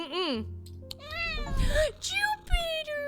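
The cat Jupiter in the game Strange Antiquities gives several clear, close meows in a short run, with a soft purring rumble underneath.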